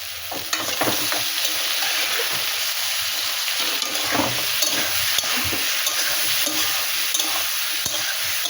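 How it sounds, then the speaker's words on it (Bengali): Spices and dried green chillies fry hard in hot oil for a fish curry, a loud, continuous close sizzle with stirring scrapes and crackles throughout. "এটা ভালো করে আমি ভেজে নেব"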